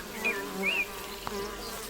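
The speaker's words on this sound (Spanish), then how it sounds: "la trayectoria de vuelo que describe este insecto al regresar a la colmena es accidentada y tortuosa" Honeybees, some affected by fermented lime tree sap, buzz in flight near the hive, a faint steady drone with a few brief whining pitch sweeps as insects pass close.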